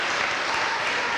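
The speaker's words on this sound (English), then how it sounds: "thank you for the applause." Brief stretch of dense audience applause during a keynote address at a conference, a steady wash of many hands clapping without pause.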